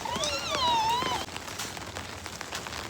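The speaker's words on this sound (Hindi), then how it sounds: "आज देख सुबह से बारिश हो रही है" Steady rain patters continuously outdoors in a soft hiss, while a high whining animal-like call rises over it at the start and then fades.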